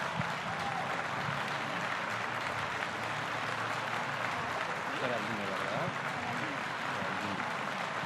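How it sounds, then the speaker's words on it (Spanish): Audience at a conference summit talk gives steady, sustained applause, a distant, even wash of clapping with voices murmuring beneath it. "un fuerte aplauso para Geraldina"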